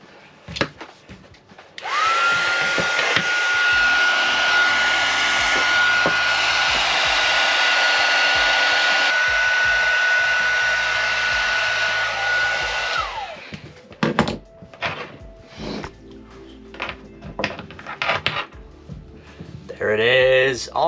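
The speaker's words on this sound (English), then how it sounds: "slide up this heat shrink and hit it with the heat gun" Heat gun blowing hot air onto heat shrink tubing over small wires, a loud steady roar for about eleven seconds that cuts off, followed by handling noises and a person talking.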